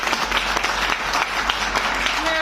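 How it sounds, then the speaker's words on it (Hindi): Sustained, dense applause from a live audience at a motivational talk, steady and loud throughout with no pauses. "बहुत बढ़िया, जोरदार ताली होनी चाहिए।"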